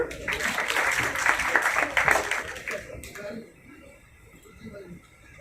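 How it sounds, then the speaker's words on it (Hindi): An audience at an International Women's Day celebration by the Bharat Scouts and Guides gives a burst of applause that lasts about three seconds and then drops away to quiet room sound. "सर के लिए जोरदार तालियां।"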